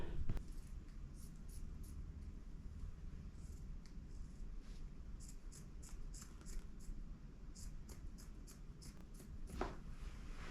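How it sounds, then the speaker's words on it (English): Scissors trim the longer edge of a fleece prayer blanket, giving repeated soft snips and rustles over a steady low background hum, close by with no talking. "I'm just going to take scissors and just trim that off."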